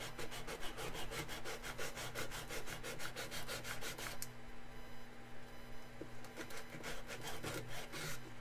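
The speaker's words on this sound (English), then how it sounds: "I think that's mostly the seam worked out, so I can stop using the file" Close, rhythmic back-and-forth rasping of a file along the seam of a plastic robot model, quick even strokes with a brief pause midway before resuming.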